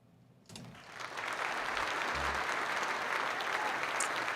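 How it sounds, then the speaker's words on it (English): A crowd breaks into applause after a quiet start, the clapping swelling quickly and holding steady and loud to the end. "So I want to give, a round of applause."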